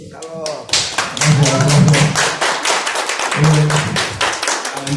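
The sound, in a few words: audience applause for speaker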